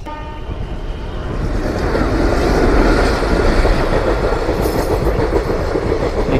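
Train approaching from the Lalgola side and passing the Bahirgachi railway level crossing while vehicles wait. A loud, close rumble builds over the first seconds into steady clickety-clack wheel noise.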